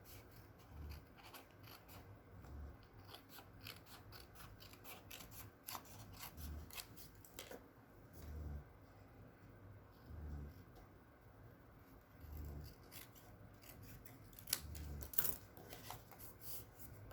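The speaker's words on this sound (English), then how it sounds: "we'll just cut right around the edge of the flap" Scissors trim around the edge of a paper envelope flap on a handmade card, producing a run of faint, close, repeated snipping and paper rustling with no voices.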